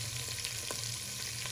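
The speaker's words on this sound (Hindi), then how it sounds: "मसाले को 5 मिनट तक अच्छी तरीके से भूनेंगे" Spices frying in oil in a pan for beef kofta, with a steady dense sizzle and a few soft scrapes as they are stirred, close and continuous with no voices.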